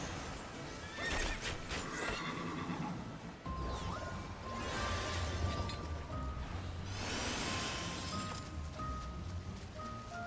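A horse in Final Fantasy XIV neighs loudly amid clattering hoofbeats and battle crashes, with a game tone humming underneath and no talking.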